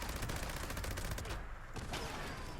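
A Gauss minigun fires in Fallout 76, a loud, dense continuous burst of rapid shots with a short dip midway before the barrage resumes.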